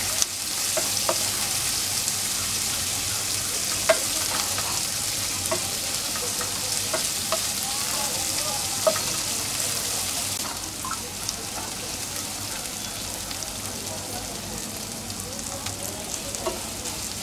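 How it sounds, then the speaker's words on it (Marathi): Chopped onion sautéing in a pan for Marathi-style tomato rice, a steady bright sizzle with scattered pops and stirring clicks, continuous and close throughout. "आणि आता कांदा घालून थोडंसं परतून घ्यायचं आपल्याला"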